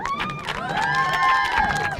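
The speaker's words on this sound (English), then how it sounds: "Why don't y'all give him a cheer?" A crowd cheers and shouts to welcome a guest arriving at a tailgate talk show, a steady, lively wash of voices with whistling and whoops throughout.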